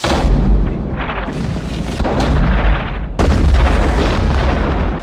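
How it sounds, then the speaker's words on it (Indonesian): Heavy, continuous rumbling booms of French cannons firing large shot at a fort, with a sharp new blast partway through, loud and close over a dense roar. "tentara Perancis telah menyiapkan meriam dengan peluru lebih besar yang diangkat oleh 2 orang"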